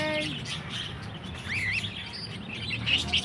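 A small bird chirps outdoors with a few short, high tweets, fairly faint over a soft background hum.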